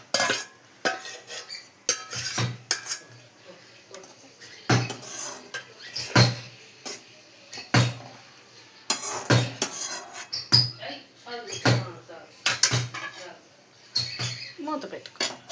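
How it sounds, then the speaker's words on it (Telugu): Ivy gourd pieces are tipped into a pan and stirred, producing sharp metallic clanks and scrapes in irregular bursts, close and fairly loud, with quiet gaps between strokes. "ఇప్పుడైతే దొండకాయలు వేసుకుందాం."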